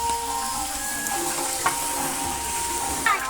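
Cooking in a festival food tent, with a steady sizzling, frying hiss running throughout and a couple of faint clinks of utensils, while a voice murmurs faintly in the background.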